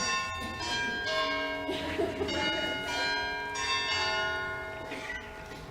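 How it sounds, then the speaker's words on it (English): Bells peal repeatedly at a literary festival launch event, marking its close. The overlapping ringing tones come in steady waves, moderately distant and fairly soft. "That bell says we're on time and we're about to finish"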